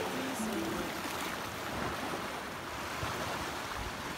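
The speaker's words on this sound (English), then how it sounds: "our ladder where you go to access the ocean" Ocean waves wash against a rocky shoreline below a sea-access ladder at Negril, Jamaica, giving a constant, fairly close surf hiss mixed with wind noise.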